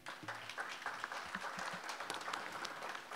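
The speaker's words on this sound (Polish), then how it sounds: "Ogromne brawa." Audience applause after the announcement of the founders of the Polish National Foundation, a steady moderate patter of many hands at a formal ceremony with a faint voice underneath.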